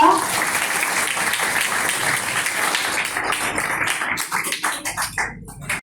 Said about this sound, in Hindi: जोरदार तालियां एक बार पुनः